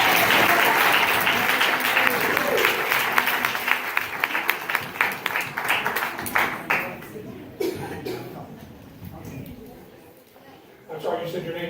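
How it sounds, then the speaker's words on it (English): An audience at a magic show applauds loudly with dense, sustained clapping that gradually thins into scattered claps and fades away, followed by someone speaking. "give him a round of applause"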